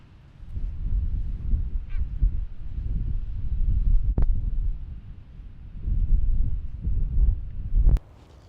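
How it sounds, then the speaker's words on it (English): Wind blowing across an open, uncrowded campground near the sand, a steady low rumbling gusting in waves, with a brief honk-like call and a couple of short clicks partway through. "Wind's blowing"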